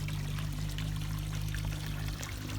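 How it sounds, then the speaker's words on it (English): Water from a garden waterfall built of stacked rocks runs steadily over the stones, a close, constant trickling pour with a low hum underneath and no voices. "just thought I'd let you see how the waterfalls is working"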